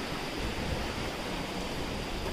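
A flowing stream near Mahabaleshwar, swollen where the ground has broken away, gives a steady, dense rush of water that holds even and unbroken throughout, with no voices over it.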